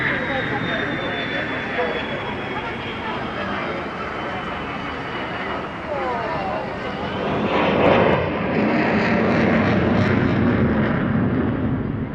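A Belgian F-16 fighter jet in a special paint scheme roars past at an airshow, loud and sustained, with a swelling rush as it passes overhead and a commentator talking over the jet noise.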